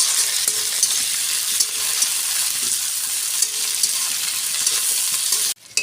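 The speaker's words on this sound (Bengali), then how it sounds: "ভেজে নেব একটু।" Tomatoes and chillies frying in a pan, a loud close sizzle with scraping stirs and small pops, cutting off abruptly near the end.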